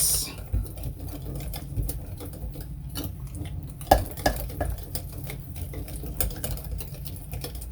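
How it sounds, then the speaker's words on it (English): Oats being whisked into banana bread batter in a bowl give a steady, rapid clicking and patter of whisk against bowl, close and continuous throughout with a low hum beneath. "So we put it at this point and whisk in your oats."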